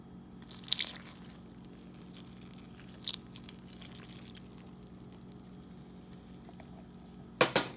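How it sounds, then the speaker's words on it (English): Milk being poured into pancake batter in a kitchen, heard as a few faint, brief splashing and dripping bursts near the start and again at the end, separated by a long quiet stretch. "Now we're gonna pour in our milk."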